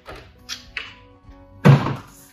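A plastic solar shield set down into the opening of a water tank fitted with a 500mm Tank Screen 360, giving a single loud, close thunk after a couple of lighter taps and scrapes.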